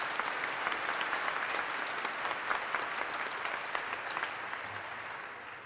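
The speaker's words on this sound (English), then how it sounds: "Let's give them a nice hand" An audience at a live performance applauds veterans in the crowd, steady moderately loud clapping from many hands that continues without a break and tapers slightly toward the end.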